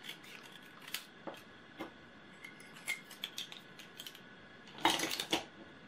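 Scissors cut a sheet of paper in two during a craft project, a few soft isolated snips and rustles followed by a louder, denser cluster of cutting and handling sounds near the end, close and quiet with no talking.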